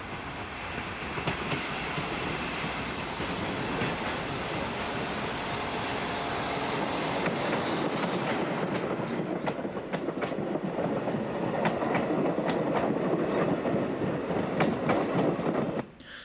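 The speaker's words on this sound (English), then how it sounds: "Most services are in the hands of these French-built 1200 class diesels" A French-built 1200 class diesel train runs steadily on rails in Portugal, with a continuous rumble and rhythmic clickety-clack of wheels that carries on close and loud throughout.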